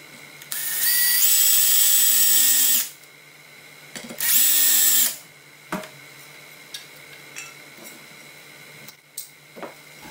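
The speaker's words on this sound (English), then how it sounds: "Now you're going to want to install your drill guide on the back of the prop and line up that hole." Power drill boring a hole through an RC model propeller using a drill guide: two loud sustained whining bursts of a few seconds each, followed by faint clicks and small handling knocks, no talking.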